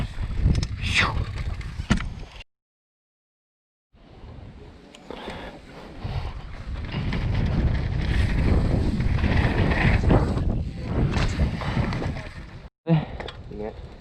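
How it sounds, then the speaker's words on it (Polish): Strong wind buffets the microphone outdoors during a freeride outing, a loud broadband roar that surges and dips, breaking off briefly and returning, with voices heard at the start. "I wieje strasznie."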